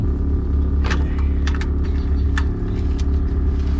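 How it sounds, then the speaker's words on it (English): A Ford Ranger truck engine idles while warming up, giving a steady, close, low rumble with a few faint light clicks over the top. "I'm just warming up my truck right now."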